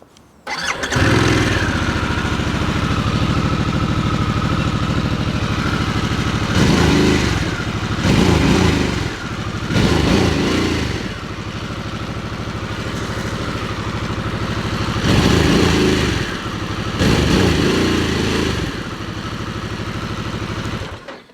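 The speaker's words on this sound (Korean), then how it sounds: "뒤에 후적이 이렇게 멋지게 터지는 할리 데이비슨은 전 또 처음이어가지고 이게 아이들링 간에도 되는지 한번 볼게요." A Harley-Davidson Sportster S motorcycle starts and settles into a loud, steady idle, its deep exhaust note swelling in several short throttle blips before falling back to idle.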